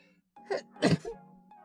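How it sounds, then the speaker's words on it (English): A single sharp sneeze with a short intake of breath before it, close and fairly loud, followed by a quieter breathy sound. "I gotta sneeze."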